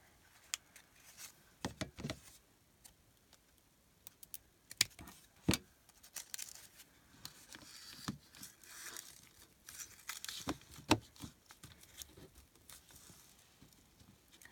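Scissors cutting around an inked paper journal page, giving soft intermittent snips and crinkles with several sharper clicks, close and fairly quiet, with no talking.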